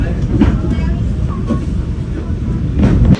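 A passenger train in Indonesia pulls away, its loud, steady rumble and rolling wheel noise filling the whole stretch close by, with faint thumps and clatter over the track.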